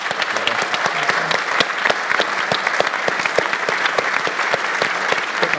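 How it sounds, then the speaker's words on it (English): Audience at a Pro Bono Economics panel discussion gives a round of applause, a steady crackle of many hands clapping at close range for several seconds. "a round of applause."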